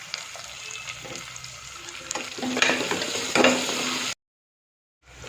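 Onion and green chili with ginger and garlic fry and get stirred in a pan while preparing coconut milk rice, a steady close sizzle with scraping spoon strokes, louder in the middle, then a brief silence near the end.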